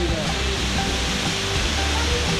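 A waterfall pours in a continuous, broad, hissing rush with no breaks, steady and fairly loud throughout, heard outdoors along a railway incline route.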